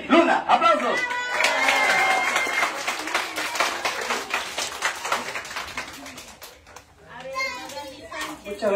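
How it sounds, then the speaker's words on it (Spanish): A crowd at an outdoor community visit to soup kitchens in the hills of San Juan de Lurigancho claps and applauds for several seconds, with children's voices and chatter mixed in, before the clapping fades and a voice begins speaking. "¡Aplausos!"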